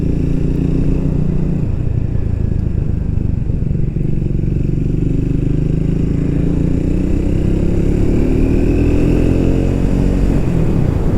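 A motorcycle rides in third gear near 7,000 rpm, with a loud, steady engine roar and shifting rev tones. A brief clatter comes from the suspension as the bike hits a speed bump.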